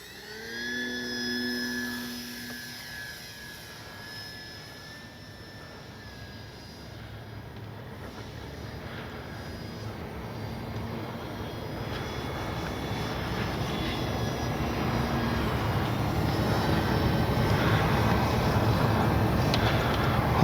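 Dynam DHC Beaver V2 RC plane flying at about half throttle on its maiden flight, a whining electric motor drone with shifting pitch, faint at first then growing steadily louder as it approaches.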